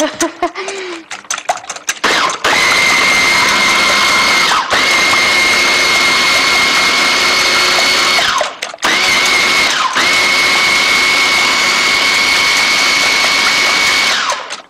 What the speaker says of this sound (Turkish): Ben ise robottan malzemelerimi hemen çekeyim.